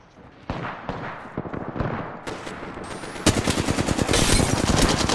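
Enemy gunfire in a video game shootout, sharp rapid shots starting sparse and building into dense, loud automatic bursts that keep going to the end.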